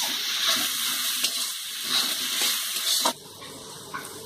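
Spices frying in a pan for dhaba-style egg tadka, a close, continuous sizzle with stirring scrapes that drops away abruptly near the end, leaving quieter clinks.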